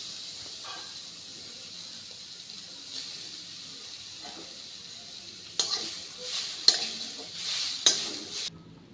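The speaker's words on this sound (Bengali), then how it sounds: "এই কোরানো নারকেলটা এবার আমি কড়াইয়ে দিয়ে দিচ্ছি।" Grated coconut is stirred in a wok, with faint scraping and a light sizzle and hiss that grows in the second half, ending in a few louder clatters of the spoon.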